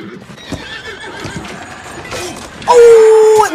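A horse in a tense zombie-drama scene gives a loud, shrill whinny that lasts nearly a second. Quieter hoof and scuffling sounds and background voices come before it.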